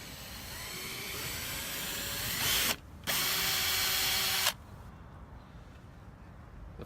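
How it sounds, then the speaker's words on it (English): A power drill whines steadily as it steps up the size of a hole in the bumper of an S550 Mustang, its pitch rising slightly, then it stops for a moment, starts again, and cuts off into quiet. "just gradually step up the size of the hole before I transition to utilizing a step drill bit"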